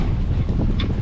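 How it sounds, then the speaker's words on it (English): Strong wind buffets the microphone aboard a sailboat under sail with the engine off off the coast of Maine, a steady loud rushing roar with low water wash beneath and no voices. "Enjoying every second of the actual sailing with the engine off"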